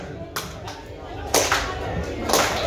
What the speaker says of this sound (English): You clap your hands like this.